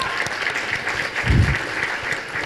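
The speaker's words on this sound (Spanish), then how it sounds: "Un aplauso para Almadelia, por favor." An audience at a summit event bursts into applause, a dense patter of many hands clapping continuously for a couple of seconds.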